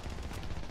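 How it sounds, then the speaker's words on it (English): Rapid gunfire from a video-game shooter match fills the brief moment, a dense, loud burst of overlapping shots with no speech over it. "Oh, he's using his shotgun on me?"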